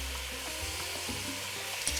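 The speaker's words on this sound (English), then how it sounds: "now our beef is pretty seared and it's still sizzling" Steady, quiet sizzling of beef searing in a hot pan, a continuous crackling hiss with faint stirring.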